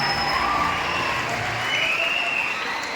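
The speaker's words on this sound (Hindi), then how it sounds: "जोरदार ताली से स्वागत करेंगे" Audience at an award ceremony in a Kisan Bhawan hall applauds an honoree, loud sustained clapping and crowd noise with a voice speaking over it through a public address system.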